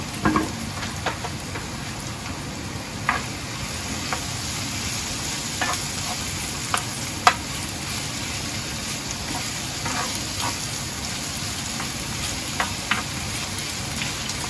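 Fishballs and spare ribs sizzle in oil in a pan, a steady dense frying crackle up close, broken by occasional light clicks and scrapes as they are stirred, with no voices.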